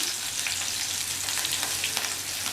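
Urad dal, dried chillies and curry leaves fry in hot oil, giving a steady, close, bright sizzle with light crackles throughout and no voices.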